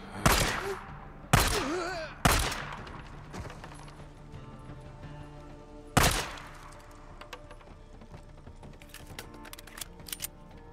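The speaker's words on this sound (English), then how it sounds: "Shots fired." Gunfire in the Days Gone video game: four loud, sharp shots spaced irregularly over the first six seconds, each followed by a short ringing decay, then quieter scattered clicks and small pops.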